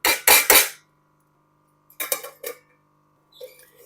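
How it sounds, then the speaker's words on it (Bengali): A lid is set over a cooking pan of pointed gourd curry: a quick burst of three sharp metallic clatters, a pause of silence, then a few softer knocks and a faint final rattle, close and clear. "দিয়ে আবার আমি দু তিন মিনিটের জন্য চাপা দিয়ে দেবো"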